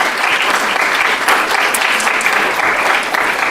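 A steady wash of applause from an audience at a school superintendent's citation ceremony, loud and continuous from start to finish, with no talk over it.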